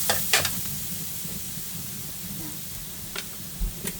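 Garlic frying in oil in a pan: a steady, close crackling sizzle throughout, with a few louder pops and scrapes of stirring.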